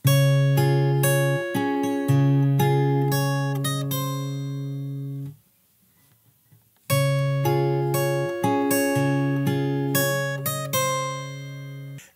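Fingerstyle acoustic guitar plays a verse bar of a song, plucked melody over bass notes in a steady rhythm, played twice with a short silent gap between, close and clear with no talking.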